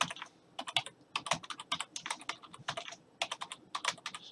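A computer keyboard is typed on rapidly as a password is entered, giving crisp, close clicks in quick irregular bursts with a short pause partway through.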